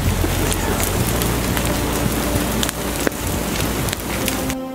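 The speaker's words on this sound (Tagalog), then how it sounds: "Ang matinding pagbaha sa Italy noong 2011 sa nagngangalit na Mediterranean Sea dulot ng tuloy-tuloy na pag-ulan." Continuous heavy rain pours down during severe flooding in Italy by the Mediterranean, a loud, dense downpour with sharp cracking impacts and a brief dip in intensity near the end.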